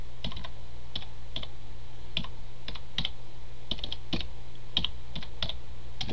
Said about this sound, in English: On the top of the thing right here, type in classicshell.net.